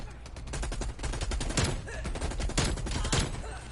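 Rapid automatic fire from an RPD light machine gun in the shooter game Call of Duty: Cold War, a loud, steady rattling stream of shots lasting the whole moment without pause.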